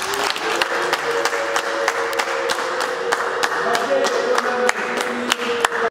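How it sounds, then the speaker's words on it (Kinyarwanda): At a Rwandan wedding, guests give the parents loud, sustained applause. The clapping is rhythmic and dense, with crowd voices mixed in and a bright ululation-like tone running beneath it. "tubahe amashyi n'impundu ku babyeyi beza b'umuco w'u Rwanda"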